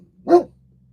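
A single short, sharp bark from a guard dog near a bus, close and clear against an otherwise quiet background.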